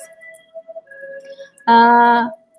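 A passing ambulance gives a single loud, brief tonal blast, clear and steady for about half a second against an otherwise quiet indoor background.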